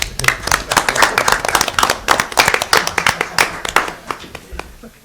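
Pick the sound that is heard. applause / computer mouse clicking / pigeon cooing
applause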